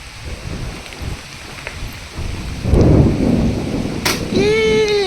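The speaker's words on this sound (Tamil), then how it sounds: "மழை வந்துச்சு" Rain falls steadily, and a deep rumble of thunder swells in the middle of the stretch; a brief sharp crack follows, then a tonal whine rises near the end.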